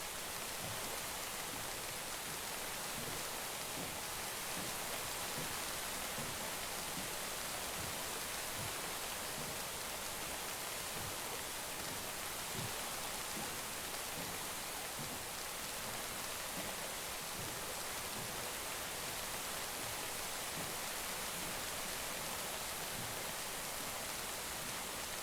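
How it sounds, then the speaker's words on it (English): Steady rain falls in a dense, even hiss of drops pattering on surfaces, continuous and unchanging throughout with no voices. "At least now we can listen to the rain."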